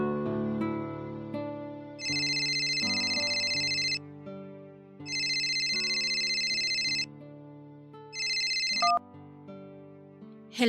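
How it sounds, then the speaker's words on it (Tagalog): A mobile phone ringtone for an incoming call plays a loud electronic melody of repeated tonal phrases with bright chiming bursts in between, close and clear, with no voices over it. "tinawagan niya ako sa cellphone"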